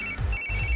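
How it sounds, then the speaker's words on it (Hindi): A phone ringtone sounds in a Hindi science-fiction film scene, a short, clear electronic ringing tone heard alone at moderate volume. "इस वक्त दीदी का फोन।"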